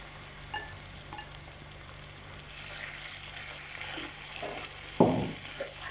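Chicken frying in about a quarter cup of oil with softened onions, a continuous moderate sizzle with scattered stirring scrapes and a louder clatter near the end, no talk.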